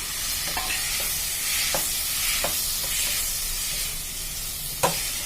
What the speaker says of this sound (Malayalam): ഇനി നമുക്കിതിലേക്ക് ഒരു രണ്ട് വലിയ തക്കാളി ചെറുതാക്കി അരിക്കുന്നത് അതും കൂടെ ചേർത്ത് കൊടുക്കാം